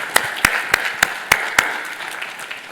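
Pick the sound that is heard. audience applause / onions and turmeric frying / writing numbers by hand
audience applause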